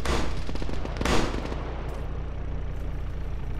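Sniper fire in ArmA 3 during a King of the Hill match on the Takistan desert map, two sharp loud cracks about a second apart, each trailing into echoing rumble over steady ambient noise.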